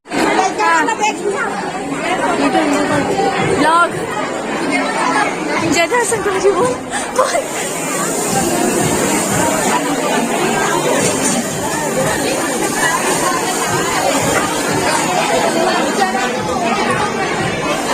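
Dense crowd chatter fills a busy gupchup stall at a wedding reception, with many overlapping voices close and loud throughout and one speaker talking over the babble.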